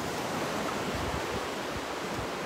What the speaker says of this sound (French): l'air pur au son des vagues de Deauville